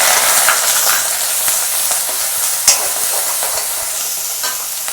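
Ginger sizzles in hot coconut oil with popping mustard seeds over lowered heat, making a steady, loud frying hiss with occasional sharp crackles.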